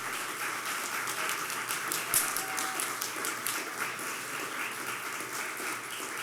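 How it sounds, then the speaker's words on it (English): Audience applause at the 2022 Latino Tennessee Voices event at Plaza Mariachi, a fairly quiet, steady patter of clapping from a crowd lasting several seconds without talk. "So let's give them a round of applause."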